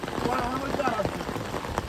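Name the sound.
heavy rain falling on tin roof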